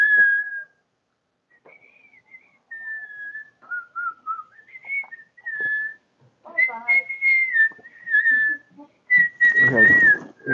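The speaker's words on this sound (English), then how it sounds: "And I can whistle." A person whistles a wandering tune in short phrases separated by pauses, clear and close, with some brief rustling and faint voice sounds between the notes.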